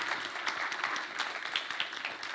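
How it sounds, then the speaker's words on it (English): Applause from an assembly audience, many hands clapping quietly and evenly at a moderate distance, with no one speaking over it. "Let's give a round of applause"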